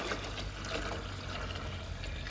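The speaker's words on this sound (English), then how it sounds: "We're just going to add enough water to cover our pot." Water poured into a cooking pot for zobo (hibiscus) juice, a steady close trickling and splashing stream running without a break, fairly quiet.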